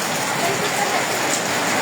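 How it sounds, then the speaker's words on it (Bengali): A hailstorm with heavy rain in Sylhet makes a dense, constant patter and hiss that stays even and loud throughout the short stretch. "এখন আবার শিলাবৃষ্টি এসে নেমেছে"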